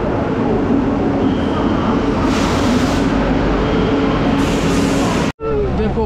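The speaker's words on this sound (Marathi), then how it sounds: "मित्रांनो, गाडी आलेली आहे" A train arriving at Nagpur railway station, with a loud, steady rumble and rolling clatter close by, a brief dropout near the end and station voices blended in the background.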